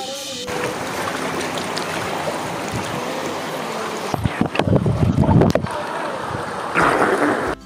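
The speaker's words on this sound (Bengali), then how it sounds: "খুবই সুন্দর জল যাইতেছে আর জলের কিন্তু স্পিড ভালো আছে এখানে।" Fast-flowing water rushes in a steady broadband wash at an outdoor summer spot, with bursts of wind buffeting and handling noise breaking in partway through.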